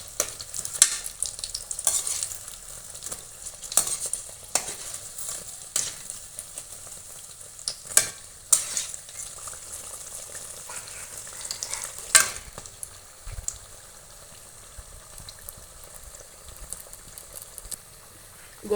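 Chili bhajji fritters frying in hot oil, a steady close sizzle with bursts of crackling and occasional stirring or turning sounds, no talking.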